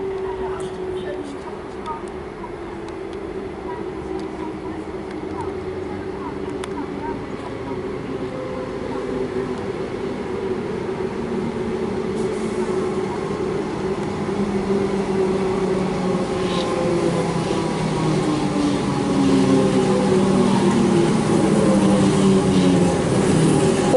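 An Alstom-refurbished Comeng electric train on a Cranbourne service pulls into Clayton station in Melbourne. Its steady rumble and the rolling of its wheels build gradually over about twenty seconds, with a voice talking over it.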